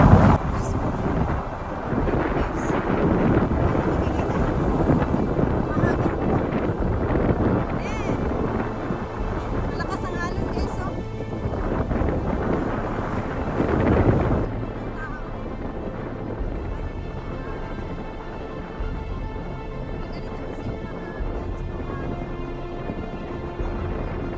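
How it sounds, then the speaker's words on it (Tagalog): Strong wind buffeting the microphone with loud rumbling gusts at a fishing park in Japan, easing abruptly partway through to a quieter steady hiss. "Medyo mahangin."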